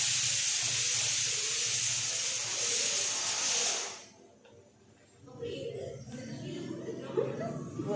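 Steam hisses loudly and continuously from an idli steamer in a home kitchen, then cuts off abruptly, followed by people talking and chuckling nearby.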